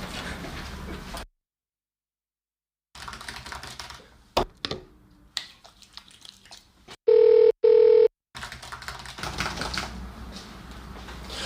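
Loud telephone ringing in two bursts of a steady electronic tone, following a stretch of button presses and handling noises.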